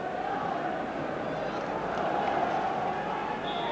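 A huge football crowd fills Ibrox stadium for a Rangers v Raith Rovers match in 1989, a steady, distant roar of many voices held throughout, with one person speaking over it.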